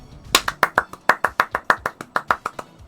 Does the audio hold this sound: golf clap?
yes